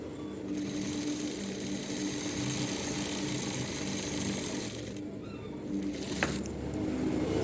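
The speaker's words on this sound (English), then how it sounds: "so you give it another row of stitching" A sewing machine stitches a row on a suit collar with a steady, rapid mechanical chatter, pausing briefly partway through before resuming, close and unaccompanied by talk.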